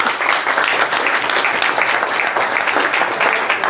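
A church congregation applauds in praise, a dense, steady wash of many hands clapping at close range for the whole stretch, with no pause or break.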